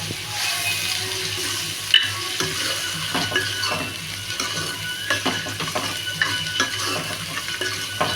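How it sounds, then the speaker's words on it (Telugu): Ginger stirred as it fries in a pan, a steady sizzle with scraping spoon strokes and occasional clinks of utensil against metal throughout. "ఇప్పుడు కలుపుకుంటాను పచ్చివాసన పోయేదాకా అల్లం"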